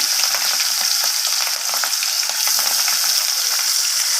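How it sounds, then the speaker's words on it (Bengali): Rohu fish fries in hot oil with a loud, bright, crackling sizzle that holds steady the whole time, close up and with no talking. "এরপর আমি মাছগুলোকে তেলের মধ্যে ছেড়ে দেব মাছগুলো ভাজা হওয়ার জন্য"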